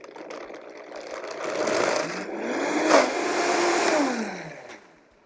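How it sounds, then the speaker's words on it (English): A blender whirring through vegan mayonnaise ingredients, swelling from a lower hum to a louder, fuller roar as the speed is raised, then winding down and cutting off at the end. "Now we're going to blend all the ingredients until the mixture is very smooth."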